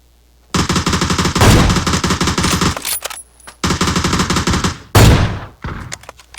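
Automatic rifle fire in the PUBG video game rips out in long, loud, close bursts separated by brief gaps, ending with a sharp final volley.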